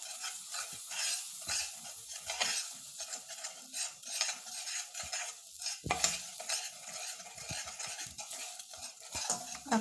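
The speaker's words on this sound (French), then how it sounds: "je rajoute la farine et je mélange bien" Flour is stirred into melted butter in a pan for a lasagne sauce: a quiet, continuous scraping and swishing of the utensil, with a faint sizzle and soft clinks throughout.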